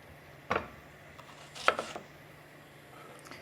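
Two distinct knife chops through an onion on a cutting board, sharp close thuds about a second apart, with quiet room tone between and a faint tap at the end.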